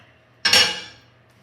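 A heavy lid set back onto a sourdough baking pot gives one sharp metallic clank with a short ringing decay, close and alone.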